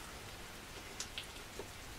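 Light outdoor rain patters in a soft, steady hiss with a few distinct drops landing close by, faint and without speech.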